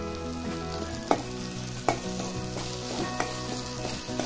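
Sprouted moth bean usal with spices sizzling steadily in a pan, with a few sharp scrapes and knocks of a spoon stirring it, close and moderately quiet with no talk.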